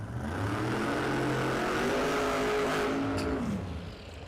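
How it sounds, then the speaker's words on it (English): A 1969 Camaro drag racing car at a Las Vegas Motor Speedway drag strip accelerates hard, a loud sustained engine roar rising in pitch for about four seconds, then fading slightly. "Craig Sparks, that beautiful 69 Camaro over there in the right lane."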